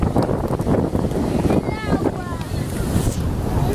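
Sea waves wash in on the beach at Monte Hermoso in a constant broad roar. Heavy wind buffets the microphone, and faint voices sound in the background.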